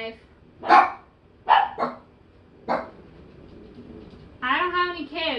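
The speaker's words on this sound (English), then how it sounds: "I sure do have a loud barking dog." A loud indoor dog barks in separate sharp bursts spaced by short pauses, ending in a longer whining, howling yelp; no talking over it.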